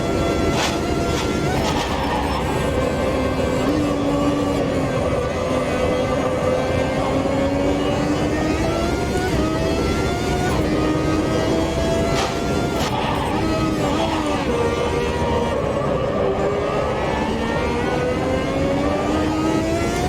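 A racing car engine in the Automobilista 2 driving sim howls steadily and loudly, pitch sweeping up through the gears and dipping on shifts, close and continuous with no one talking.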